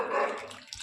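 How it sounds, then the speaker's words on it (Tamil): Water poured into a pot of pumpkin sambar, a brief close gush and splash that fades within a second. "எவ்வளோ தண்ணி தேவையோ அது வரைக்கும் ஊற்றிக்கணும்."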